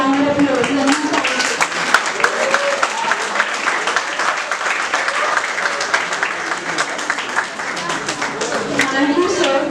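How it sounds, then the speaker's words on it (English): Audience applause at a school investiture ceremony, steady clapping throughout with voices and chatter mixed in. "Please give a big round of applause."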